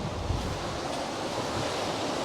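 Sea waves wash onto a windy beach as a steady, moderately faint surf roar mixed with wind noise on the microphone, with no voices.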